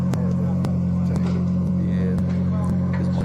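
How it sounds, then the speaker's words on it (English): A car's exhaust thumps from overload, with sharp regular beats about every half second over a steady low droning hum, loud and close. "That's the overload of the exhaust."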